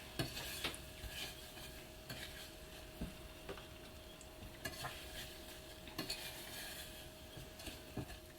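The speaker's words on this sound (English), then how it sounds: "you're very gently going to keep this moving till your butter and sugar melts down" Butter and sugar melting in a pan for caramel popcorn, stirred with a utensil that scrapes and taps the pan in irregular clicks over a soft, steady sizzle, close and moderately quiet, with no talking.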